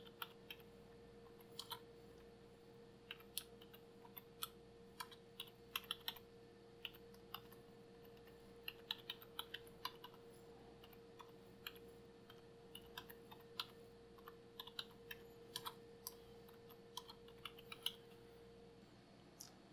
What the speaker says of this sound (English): I'm going to type it now.